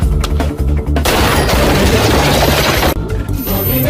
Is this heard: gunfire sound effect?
yes